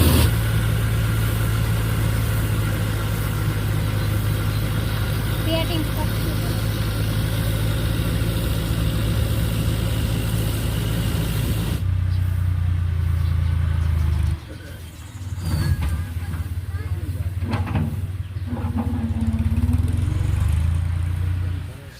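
A tractor engine idling in a farm field, steady and close with a low throbbing drone, then dropping to a quieter rumble partway through while scattered knocks and voices come through.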